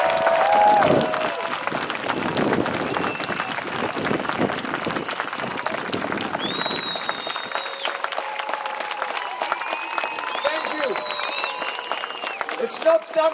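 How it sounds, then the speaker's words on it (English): A crowd at a pro-Israel gathering applauds and cheers, with sustained, dense clapping and scattered whistles rising over it throughout. "Please, let's give her a round of applause."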